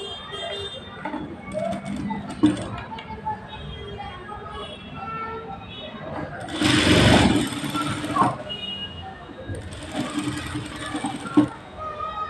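A sewing machine stitches lace onto a blouse neckline in short runs, its fast rattling hum rising twice over steady background noise, while someone talks throughout.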